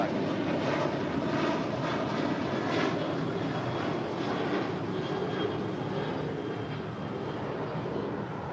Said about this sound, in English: That was Southwest Airlines flight 1195 heading to San Antonio, Texas at a 737-700.